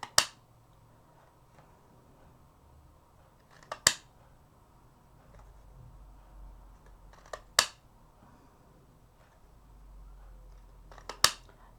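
Scissors snip through decorative paper card, with four sharp, isolated cuts spaced a few seconds apart over quiet room noise, each a crisp close snip.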